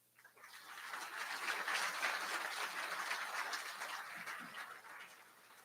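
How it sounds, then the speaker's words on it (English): An audience at a wildfire and incident management academy tribute night applauds for the families, steady clapping that swells quickly and holds at moderate loudness, heard from a distance. "So for all the families, I'd like to have a round of applause."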